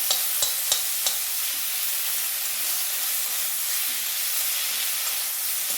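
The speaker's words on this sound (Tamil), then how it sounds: "இந்த கழிவு க்ளீன் பண்ணி வச்சுருக்கிற முருங்கைக்கீரையை போட்டுக்கலாம் அப்படியே ஒரு துவட்டிலே அப்படியே சுருண்டு போயிடும்" Cleaned drumstick leaves sauté in a hot pan with a loud, even hiss of frying, and a few light clicks of a spoon against the pan come at the start.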